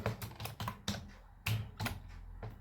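Fingers type code on a computer keyboard in quick, uneven bursts of clicky keystrokes with short pauses between them. The sound is close and fairly quiet, with no speech.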